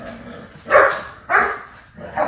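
Two dogs play-fighting roughly, with loud, close growling and snarling in three rising bursts separated by brief quieter gaps.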